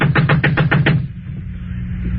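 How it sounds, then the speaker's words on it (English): Knocking on a door as a radio drama sound effect: about six evenly spaced, fairly loud knocks in quick succession, followed by a quieter low background. "Knock again."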